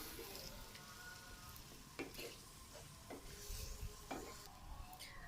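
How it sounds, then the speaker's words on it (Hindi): Small chicken cubes frying in a pan give a continuous soft sizzle, with occasional scrapes and light knocks of a spoon against the metal as they are stirred, quiet and close. "अब हम इसमें चिकन डालने लगे। छोटे छोटे क्यूब्स की शक्ल में कटे हुए चिकन है। इनको हम अच्छी तरह से कलर चेंज होने तक फ्राई करेंगे।"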